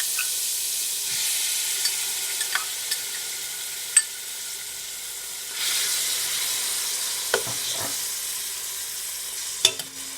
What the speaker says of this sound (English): so in goes my green seasoning.